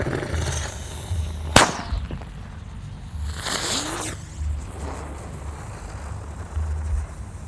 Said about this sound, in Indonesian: yang akan kita nyalakan ada mercon rotator